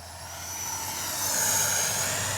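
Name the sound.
radio-controlled jet airplane doing a low pass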